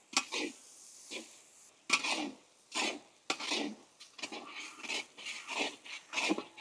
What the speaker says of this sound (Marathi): आपण आता ठेचाचं वाटण व्यवस्थित कांद्यामध्ये परतून घेऊ जोपर्यंत कच्चापणा जात नाही तोपर्यंत